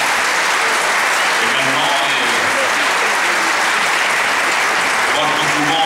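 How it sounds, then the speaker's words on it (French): Loud, sustained audience applause fills a Paris conference hall on Iranian and Syrian affairs, a dense wash of clapping with a voice speaking faintly over it. "je crois que nous pouvons fortement les applaudir, les représentants de l'opposition syrienne"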